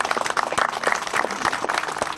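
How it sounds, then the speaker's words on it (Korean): An audience at a formal Korean commemorative ceremony claps in welcome, a dense patter of applause filling the hall, fairly close and continuous. "박수로 환영해 주시면 고맙겠습니다."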